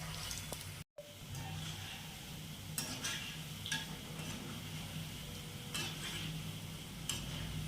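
Sweet urad dal bondas dropped into hot oil, a soft steady sizzle with occasional sharp clinks and taps of utensils, faint and close, without speech.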